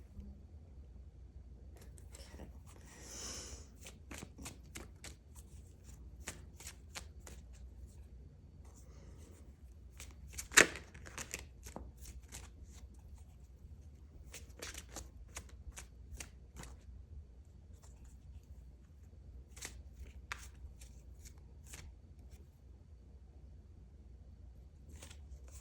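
Tarot cards being shuffled and laid out on a table: a quiet, steady run of soft papery flicks and taps, with a sharper slap near the middle, all faint and close.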